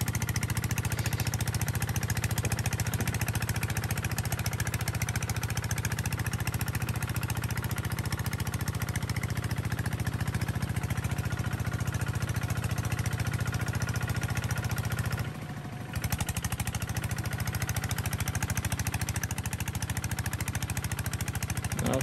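A Japanese walk-behind power tiller works a field in Vietnam, its small engine chugging in a steady, loud, continuous drone with a brief dip partway through.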